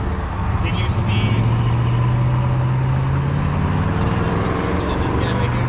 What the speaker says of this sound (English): You guys aren't going to be able to hear anything with all this traffic.